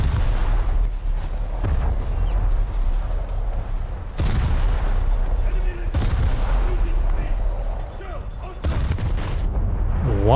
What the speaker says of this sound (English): Why did the main guns fire when they were nowhere near being aligned?